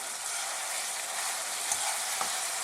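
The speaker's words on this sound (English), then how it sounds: "We can now add in our ribs and we can just throw that around" Pork ribs hit a pan of sweet garlic sauce with a steady, bright sizzle, a few soft knocks and scrapes as the meat is tossed around, no voices over it.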